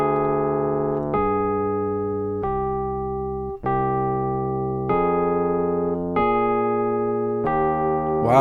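A chord progression in smooth voice leading sounds as seven sustained, evenly spaced chords on a keyboard-like instrument, each held about a second, close and clear with no voices.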